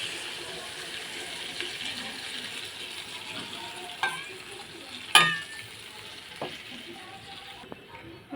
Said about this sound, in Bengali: কষানো হয়ে গেছে, এখন পরিমাণ মতো জল দিয়ে দেব